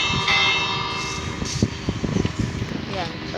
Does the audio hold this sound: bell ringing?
yes